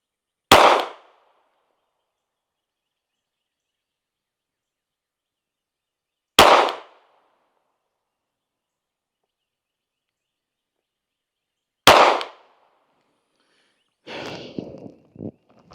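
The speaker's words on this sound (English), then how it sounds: "I'm going to take 3 well-aimed shots." Three sharp gunshots ring out at a shooting range, each loud single report spaced about six seconds apart, followed by a brief shuffle of handling noise at the end.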